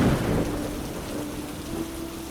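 Steady heavy rain hisses without a break, with a low rumble of thunder rolling underneath at an even, fairly loud level and no voices.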